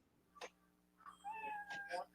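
A cat meow sound effect from a lightsaber plays twice, a short high cry and then a longer drawn-out tonal meow, fairly quiet, with faint background hum.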